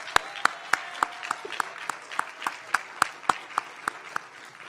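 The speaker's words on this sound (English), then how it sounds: "he deserves a round of applause" A small audience claps for a university vice president of student affairs taking the stage at a student leadership awards event, sparse distinct claps in a steady irregular rhythm, moderately close and fairly quiet throughout.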